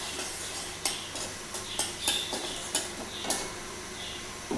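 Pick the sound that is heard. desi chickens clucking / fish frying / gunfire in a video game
fish frying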